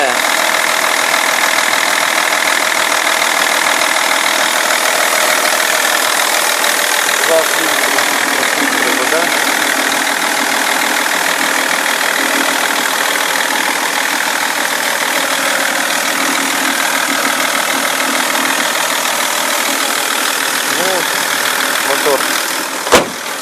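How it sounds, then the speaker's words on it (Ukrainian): A cold 2002 BMW 530d diesel engine idles steadily and loudly up close, with a constant rumbling drone and slight knocking throughout. "Оце холодний мотор заведений"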